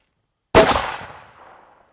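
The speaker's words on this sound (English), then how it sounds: "first shot with our CX bullet here" A single sharp .308 hunting rifle shot fired with a CX bullet cracks out loud and close, then its report trails away over about a second.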